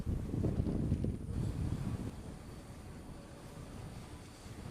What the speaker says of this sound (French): Voilà, c'est bon, il y a du vent.